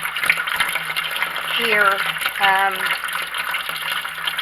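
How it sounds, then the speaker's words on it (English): A kitchen sink tap runs at full blast on a homestead during a hard freeze, giving a steady close hiss of water under a person talking throughout. "I'm about to lose my last little bit of water in my kitchen sink. This is down to full blast."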